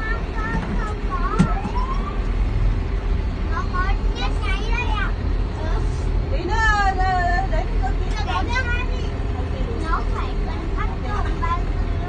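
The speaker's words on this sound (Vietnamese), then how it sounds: "Xe cảnh sát kìa." A police car siren on a city street heard amid traffic, rising and falling wails repeating through the stretch, moderately distant, under ongoing voices and babble.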